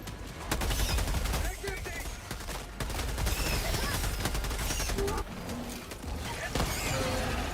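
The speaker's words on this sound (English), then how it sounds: "The bugs have artillery." Bug artillery fires in Helldivers 2 as steady booming and crackling bursts roll through a busy battle mix, loud and nearly continuous, with voices talking over the fighting.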